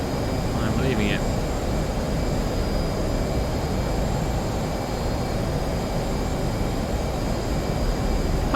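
Jet engines roar in a DCS flight simulator dogfight between an F/A-18 Hornet and a training jet, a steady broadband whoosh that holds at even loudness throughout.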